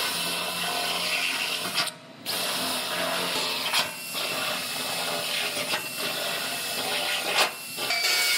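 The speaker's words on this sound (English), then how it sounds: "I'm gonna go ahead and make all my holes for the welds." Power drill boring plug weld holes in a new Toyota floor pan, a loud sustained whine broken by several brief pauses between holes, with no talking.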